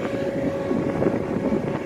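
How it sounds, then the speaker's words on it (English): Steady, low rumbling wind buffets the microphone outdoors, a continuous broadband roar with no pauses. "Maybe you probably hear it's windy out here too."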